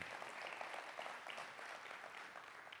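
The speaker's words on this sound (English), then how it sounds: "let's give him a round of applause" Applause from a church audience at a talk on God, love and sex: steady, crowded clapping from many hands, faint and distant throughout.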